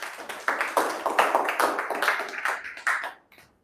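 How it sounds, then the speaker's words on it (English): Scattered clapping from a small audience after a talk on business expansion, irregular and fairly close, tapering off into silence near the end. "Let's clap for her."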